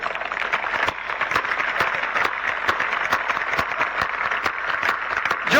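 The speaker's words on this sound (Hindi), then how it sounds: "जो भारत माता से प्यार करता है वो ताली बजाए।" Dense applause from a large crowd at a stand-up comedy set during a kavi sammelan in Nokha, with many hands clapping continuously and steadily throughout.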